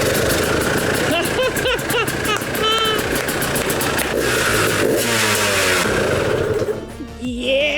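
A KTM 300 XC-W two-stroke dirt bike starts up and revs, its loud, close engine rising and falling in sharp blips and sustained pulls, with an excited voice cutting in over it.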